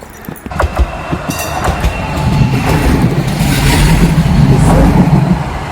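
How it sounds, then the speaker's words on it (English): A tram rumbles past up close, its low rolling drone swelling steadily with a faint rail clatter and hiss over a few seconds. "So here comes the tram."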